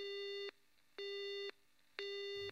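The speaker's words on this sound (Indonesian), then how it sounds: "Saluran telepon ke rumah Yoshiko dan Shizuoka sibuk" A telephone busy signal beeps three times in an even on-off rhythm, each tone about half a second long and clear, in an animated cartoon.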